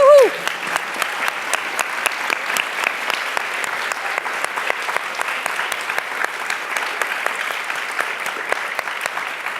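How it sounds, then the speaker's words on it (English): A conference audience breaks into sustained, even applause for the companies in the room. A voice is briefly heard right at the start before the clapping fills the whole stretch. "so we can just give you a nice round of applause"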